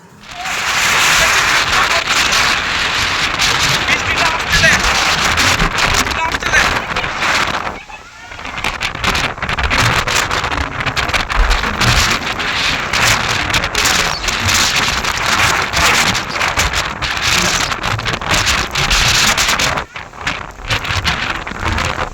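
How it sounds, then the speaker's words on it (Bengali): Heavy rain pours during a storm, heard from a house rooftop as a loud constant roar with strong wind buffeting the microphone, dipping briefly twice. "প্রচণ্ড জোরে বৃষ্টি আসছিল গাইজ আমরা বাড়ি চলে এলাম আর বাড়ির ছাদ থেকে ভিডিওটা নেওয়া দেখো কীরকমভাবে বৃষ্টিটা আসছে"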